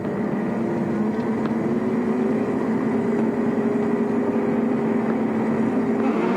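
Sports sedans at a 1987 AMSCAR race start at Amaroo accelerate away together, a dense steady roar of engines with a rising drone held loud and constant throughout, no voices heard.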